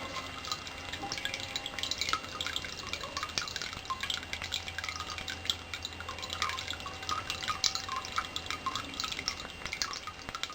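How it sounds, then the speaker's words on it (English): A steady, soft trickle of water with faint drips runs continuously against a quiet background, no voices present. "is to hear that trickle of water"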